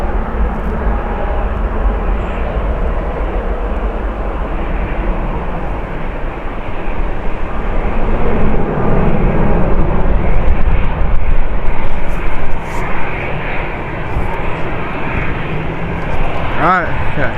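A Lufthansa airliner at Manchester Airport gives a loud, sustained engine roar that builds toward the middle and holds as a dense rumble, with voices talking over it.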